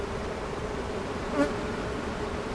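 Honey bees hum around swarm cells in a queenless swarm, a steady dense buzz with one closer bee droning past briefly mid-clip, no speech.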